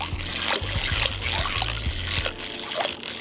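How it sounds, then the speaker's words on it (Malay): A part lowered into water for a washout test, with irregular splashing and trickling close by and a low engine-like hum running underneath. "sekarang kita akan submergekan dia dekat dalam air dan kita crank"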